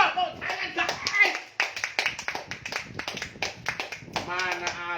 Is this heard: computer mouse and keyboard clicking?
no